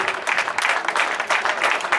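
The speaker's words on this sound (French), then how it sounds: "Je crois qu'on peut les applaudir très très fort" Loud crowd applause at a Tour du Finistère cycling event, a thick, continuous clatter of many hands surging and easing slightly over two seconds.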